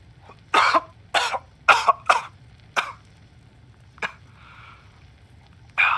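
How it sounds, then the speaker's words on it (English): A Fallout 4 game character coughs in a run of harsh, separate bursts, several close together and then a few more spaced out, over quiet low background hum. "That cough is getting worse, Mal."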